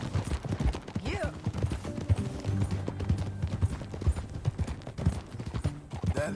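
Horse hooves clip-clop in the video game Red Dead Redemption 2, a steady close rhythm of hoof beats with an earlier whinny-like rising cry, over ambient game sound with no talk.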